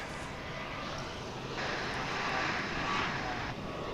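An aircraft arriving from Aguascalientes at Dallas Fort Worth airport rumbles at a distance, the engine noise swelling briefly in the middle before easing back.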